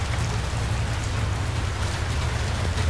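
Steady rain falls on a dawn ride home for a motorcycle taxi rider, a dense, constant hiss with no voices or breaks throughout.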